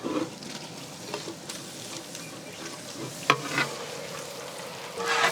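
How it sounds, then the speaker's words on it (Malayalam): Onions sauté with tomato and green chili in a pan, giving a constant close sizzle with occasional sharp utensil clicks and stirring scrapes. "സവാള കുട്ടൻ വഴന്ന് വരുന്നേ ഉള്ളൂ."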